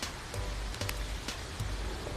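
Steady rainfall as a sound effect in a Noah's Ark story, a soft, even patter with a few sharper drops, alone and without talk.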